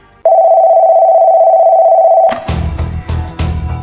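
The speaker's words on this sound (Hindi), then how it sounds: "वो सबसे पहले रमेश मलिक को ही फोन घुमाता है" Telephone tone sounds as one long steady loud beep for about two seconds, then cuts off into sharp clicks and rattles like a handset or dial being handled.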